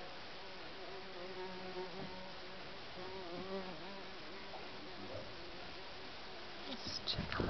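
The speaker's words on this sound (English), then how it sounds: "So we could just waste hours watching bees." Foraging bees give off a soft, continuous buzzing hum with wavering pitch as individuals drift close and away, fairly faint against a quiet outdoor background.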